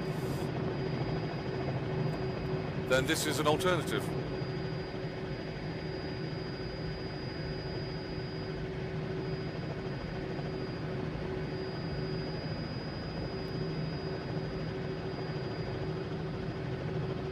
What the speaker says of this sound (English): get a helicopter in Flight Simulator